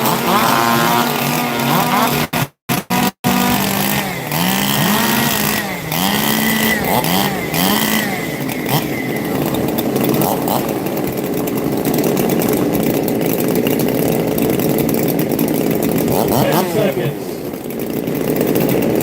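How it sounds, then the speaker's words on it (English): Several chainsaws are warmed up before a competition, revving loudly and continuously with overlapping engine whines that rise and fall, close and dominant over a few background voices. "Let's warm up some saws."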